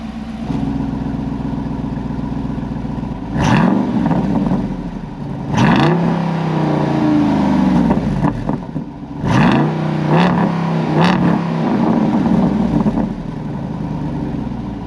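A Jeep Wrangler Rubicon 392 V8 idles with a deep rumble, then is revved in several sharp bursts that climb and fall back to idle, loud and close with no talking.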